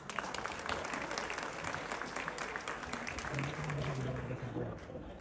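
An audience at a gathering at UCP University in Lahore applauds with a dense, continuous patter of many hands throughout, heard at a moderate distance, with a voice rising faintly beneath it toward the end.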